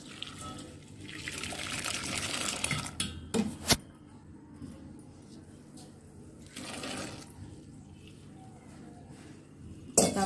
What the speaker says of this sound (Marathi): गाळणी घेऊ व गाळण्यामध्ये आपले शिजलेले पास्ता गाळून घेऊ.